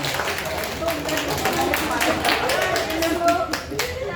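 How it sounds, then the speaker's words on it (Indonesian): An audience claps at an office farewell for an IT staff member, a steady round of hand claps lasting several seconds under and around talk. "tepuk tangan dulu dong"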